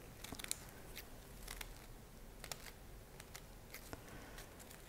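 Scissors snipping through paper while cutting a paper chandelier, a few faint, quiet crisp snips at irregular intervals over soft background hiss.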